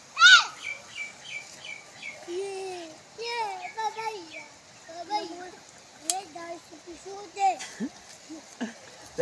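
Parrots chirping in a lively, repeated series of short tweets and warbling calls close by, with a voice sounding intermittently alongside them.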